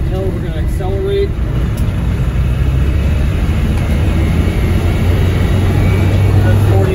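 A 1990s Land Rover Defender 110 Tdi diesel engine accelerating downhill, heard from inside as a loud, steady low drone with road and wind rumble building slightly, continuous throughout.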